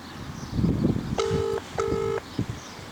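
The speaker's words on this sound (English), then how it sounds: "Okay, making the phone call." A phone dials out while a call is being made: two clear, sustained keypad tones sound one after the other over low background rumble and handling noise.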